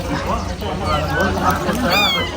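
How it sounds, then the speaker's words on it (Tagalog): A cat meows a few times in short, rising cries, heard close amid a busy background of voices. "Oh, pusa."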